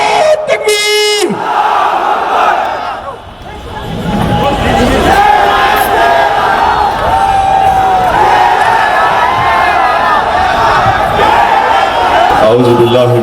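A large rally crowd roars in loud, sustained collective chanting of Nara-e-Takbir slogans at a gathering on sharia protection, the massed voices shouting together and filling the whole span with only a brief dip near the start.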